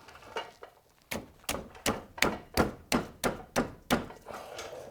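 A wrench works a 17 mm nut loose on a RAV4's suspension, giving roughly ten rhythmic metallic knocks about a third of a second apart, close and moderately loud in a garage.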